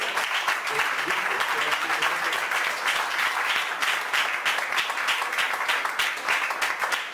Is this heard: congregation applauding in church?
yes